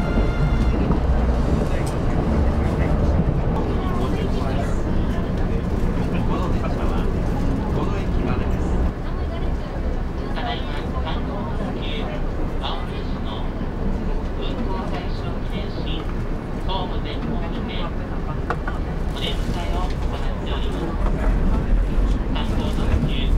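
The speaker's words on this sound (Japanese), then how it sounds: "列車は京都駅に到着です。" A Kintetsu Aoniyoshi limited express sightseeing train rolls into Kyoto Station, giving a steady, loud interior rumble of wheels and motor that stays constant throughout, with a voice speaking over it.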